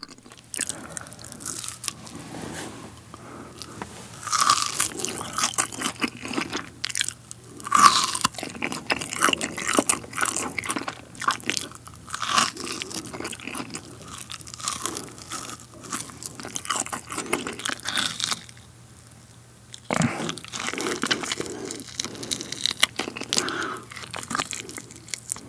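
Grilled pork ribs are bitten and chewed up close, with repeated crunchy bites and wet chewing throughout, occasional crinkling, and a brief quiet gap near the end.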